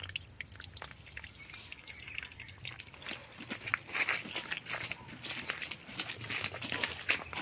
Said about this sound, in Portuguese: Olha aqui, as águas descendo direto, ó.